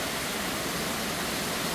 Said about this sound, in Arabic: هذا شلال الاخوين